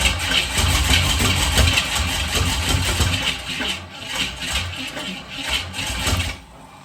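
A 1967 Ford Mustang engine left sitting for 20 years rumbles loudly close by, a steady low idle-like churn with a few dips in level before cutting down near the end.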